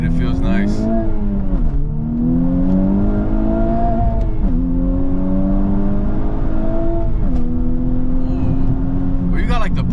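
A new Honda Civic Type R driven on canyon roads: loud, close engine drone that climbs in pitch and drops at each gear change, repeating several times, with people talking inside the car.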